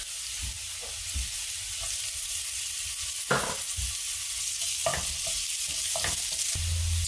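Onions and garlic sautéing in a pan, a steady close sizzle throughout with soft scrapes and knocks from stirring, and no talking.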